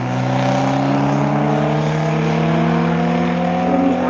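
An Audi and another street car roll racing side by side at a drag strip, engines droning loud and steady at high revs as they pull hard down the track, with no talk.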